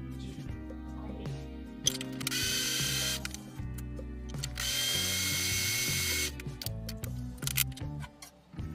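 A grinding machine processes fish meal for fishing bait, its motor whirring loudly in long bursts with harsh high-pitched grinding stretches, stopping and restarting several times, close to the listener.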